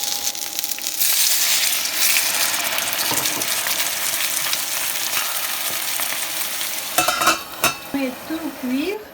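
Water is poured into a hot pan of frying gyoza dumplings, setting off a loud burst of sizzling hiss that settles into steady bubbling, followed by a few clinks and scrapes near the end.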